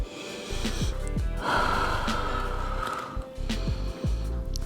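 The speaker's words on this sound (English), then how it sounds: "Breathe in and breathe out." Deep, audible breaths in and out during a cardio and toning workout, close and fairly loud, with a long exhale through the middle and sharper snorting inhales around it, no talking.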